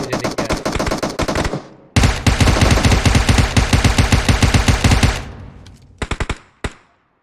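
Gunfire in the battle-royale game PUBG: long loud bursts of rapid automatic fire, a brief break, another sustained volley, then a few short separate shots trailing off.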